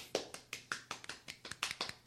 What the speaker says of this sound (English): One-handed clap